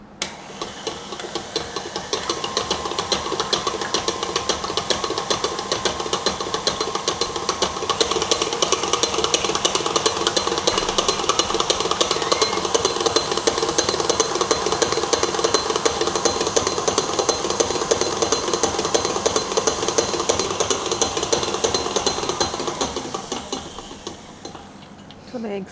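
An electric mixer beats eggs at medium-high speed, a continuous whirring motor with a rapid ticking beater rattle that rises soon after starting, holds steady for about twenty seconds, then winds down.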